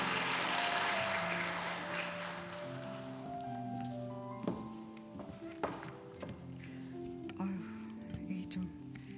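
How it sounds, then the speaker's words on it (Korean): A women's worship service congregation applauds at the start with a dense wash of clapping that fades within a couple of seconds, leaving soft music tones and a few thumps. "우리 하나님께 감사의 박수를, 또 우리 변호사님께는 격려의 박수를 올려드리겠습니다"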